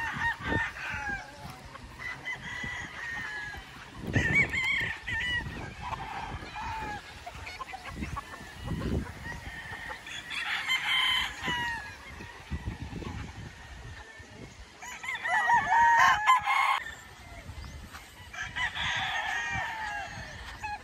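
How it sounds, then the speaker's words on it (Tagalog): At a gamefowl farm in Tanauan, Batangas, several roosters crow in repeated bursts from varying distances, with clucking and scattered bird calls between them and a voice briefly audible. "Solid ng mga manok dito sa AEJ."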